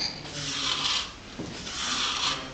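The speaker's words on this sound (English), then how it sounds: "we continue to use our scraper in removing the waxy cuticle" A scraper drawn along a plant leaf to strip off the waxy cuticle and free the fibre, making two long, close, rasping rubbing strokes with a brief pause between them.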